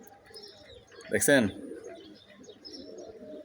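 Pigeons coo in a short, throaty burst near the middle, with softer chirps and low ambient noise around it while someone speaks briefly.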